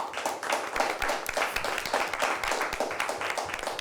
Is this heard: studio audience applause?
yes